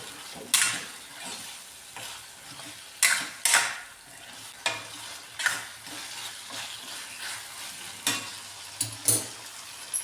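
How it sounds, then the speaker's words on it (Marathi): Boiled potatoes and spices stirred together in a kadhai over medium heat for a potato curry: a soft continuous fry sizzle punctuated by sharp spoon scrapes and knocks against the pan at irregular intervals. "आता मिक्स करून घेऊ सर्व एकत्र गॅस मिडियमच ठेवायचा मसाले ना खाली लागले नाही पाहिजे कढईला"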